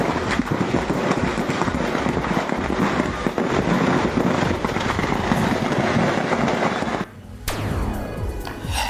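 A dense, continuous crackle of stored fireworks stock exploding all at once in a fire in Maguindanao, loud and chaotic, then a sudden drop to a lower rumble near the end.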